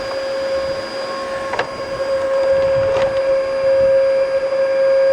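A Bissell vacuum cleaner with no suction and a non-working brush bar runs steadily, giving a constant motor whine with a couple of brief knocks partway through. No one speaks.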